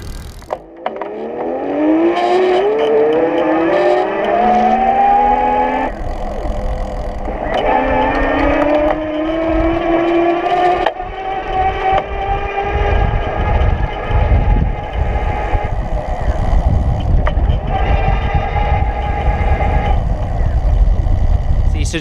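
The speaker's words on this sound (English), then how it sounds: "the motor keeps going more like a throttle. In fact, it's going right now." An Ariel Rider N-Class e-bike motor keeps whirring after pedaling stops, a steady electric whine that rises and falls in pitch over about twenty seconds under continuous wind and road rumble.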